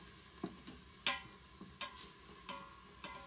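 Food sizzling gently in hot cooking oil in an Instant Pot on its saute setting, with soft stirring clicks and taps spaced over a faint steady hiss, close and quiet.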